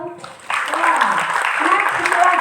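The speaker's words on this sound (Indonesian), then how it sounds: "Tepuk tangan dong." Church congregation at an ecumenical worship service bursts into applause after a brief pause, the clapping sustained and dense to the end.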